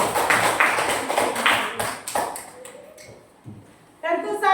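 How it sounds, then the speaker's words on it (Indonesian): A class of children claps their hands in a rhythmic burst of sharp claps that fades after about two seconds, followed by a quieter stretch and then an adult voice speaking. "tepuk tangan"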